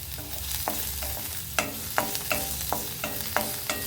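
Ten cloves of crushed garlic roast in oil in a pan, a soft steady sizzle broken by regular sharp scrapes and knocks of a spoon stirring, with no talk.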